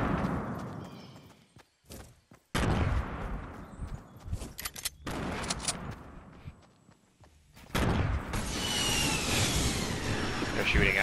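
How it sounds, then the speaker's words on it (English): Gunfire in a video game squad match comes as repeated sharp bursts and crackling volleys, separated by brief gaps and building to a sustained dense barrage near the end. "They're shooting at us."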